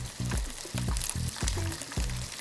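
Shrimp toast frying in very hot oil in a wok, a steady loud sizzle broken by several sharp bursts and spatters as pieces are lowered in, close up with no talking.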